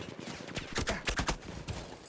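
Rapid gunfire from a weak gun in Battlefield 1 cracks out in quick bursts of close, sharp shots, with no talk over it.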